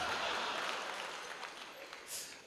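Audience applause at a Hindi motivational talk by UCA leader Madhav Singh, a dense steady patter of clapping from a seated crowd that slowly fades over a couple of seconds.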